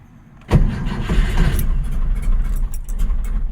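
A 1966 Porsche 912 engine with rebuilt carburetors cranks and catches with a sharp, loud start, then settles into a rough, steady idle close by with no one talking.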